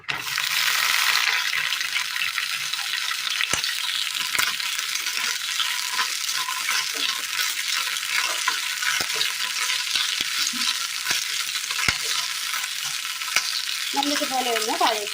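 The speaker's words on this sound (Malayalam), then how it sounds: "അടുപ്പത്ത് പാൻ വെച്ച് കൊടുത്ത് അല്പം എണ്ണ ഒഴിച്ചു കൊടുക്കാം ഇതിലേക്ക് അരിഞ്ഞ വെണ്ടയ്ക്ക ഇട്ട് കൊടുക്കാം" Chopped okra fries in oil in a pan with a constant crackling sizzle and occasional stirring scrapes. It runs alone for the whole stretch with no voices.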